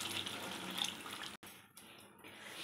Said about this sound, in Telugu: కొన్ని వాటర్ పోసుకున్నామండి